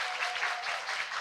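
A live audience at a Korean workplace-themed talk concert applauds a labor attorney guest as she is welcomed onstage, a dense, steady wash of many hands clapping with no voices standing out.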